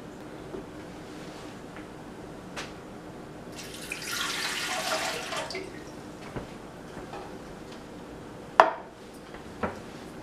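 Water pours into an Oster Expressbake bread machine pan in a kitchen, a splashing, rushing stream swelling for a couple of seconds between quieter drips and small clinks.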